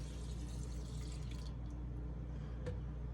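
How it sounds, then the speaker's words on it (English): Water poured over rice in a bowl to rinse off starch, a steady faint wash of liquid with a few small splashes and drips, no talking. "Pour some more water."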